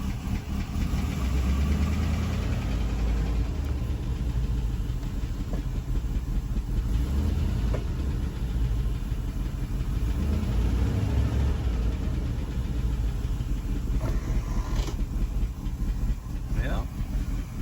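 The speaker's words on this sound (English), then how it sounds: "Now she's making a little bit of a noise. Not sure what it is. Idling better." Engine of a 1987 Chevrolet K5 truck idling steadily and close, a continuous low rumble with some mechanical noise, running throughout without pauses.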